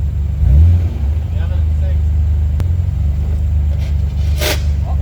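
An Ultima sports car engine rumbles loudly and steadily close by, with a brief surge of revving near the start and a few clicks later on.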